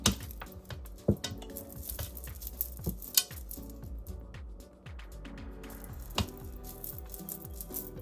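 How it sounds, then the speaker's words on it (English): Oatmeal cookie ingredients being mixed in a bowl, with repeated clinks and scrapes of utensil against the bowl and a rattling, stirring texture throughout, close and moderately loud with no talking. "So what we're going to do now is we're going to mix those ingredients together"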